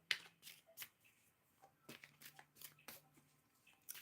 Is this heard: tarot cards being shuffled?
yes